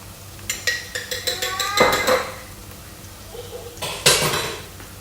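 Ginger and garlic paste is sautéed in a pot for chicken kabsa, with a metal spoon clattering and scraping against the pot in quick bursts, close and fairly loud, a short pause between them and no voices.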